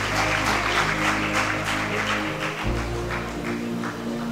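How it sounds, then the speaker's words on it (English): Applause from an audience at a university law symposium, sustained clapping that carries on for several seconds at a fairly constant level, with a low background hum shifting partway through. "Please let's give a round of applause from the University of Calabar."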